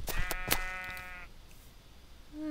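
Minecraft sheep bleat several times in quick succession, clear and close with wavering pitch, before fading into quiet game background and a faint tone at the end.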